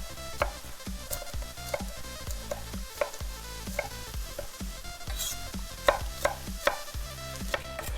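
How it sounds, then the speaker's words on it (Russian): A knife chops bell pepper for shakshuka in a home kitchen, giving a steady run of close, crisp board taps with a few sharper louder strikes near the end, no talk. "Сразу же нарезаем перец."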